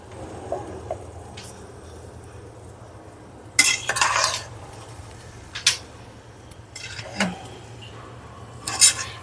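A metal spoon scraping and clanking against a pot while mutton biryani with seeraga samba rice is gently stirred, a few distinct scrapes and knocks spaced over quiet gaps above a low steady hum.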